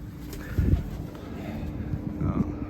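Baku pigeons cooing outdoors at a dovecote, soft low coos in two short bursts over a steady background hum, fairly near.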